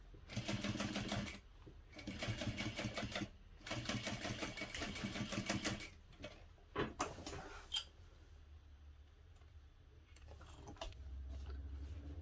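A sewing machine runs in bursts as it stitches a seam, rapid mechanical chattering in several starts and stops, then quieter handling clicks and rustles afterward.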